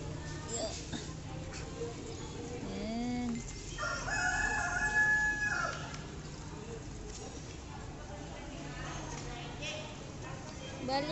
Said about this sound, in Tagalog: May chicken, no? Chicken yun.